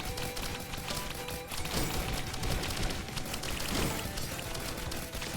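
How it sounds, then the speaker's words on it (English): Fireworks bursting in the video game Risk of Rain Returns after a boss fight: a dense, continuous barrage of crackling pops and booms mixed with game noise, loud and with no talking. "I guess the boss dropped a bundle of fireworks."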